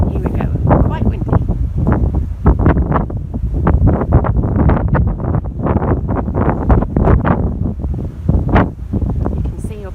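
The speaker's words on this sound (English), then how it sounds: "it's just so windy and raining" Loud, gusty wind with rain buffets the microphone on a ship's deck near the bow in heavy roaring blasts, with a voice faintly audible beneath the rushing noise.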